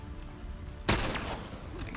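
A single sharp gunshot in The Last of Us multiplayer match cracks out suddenly and decays quickly, standing out above low background game noise.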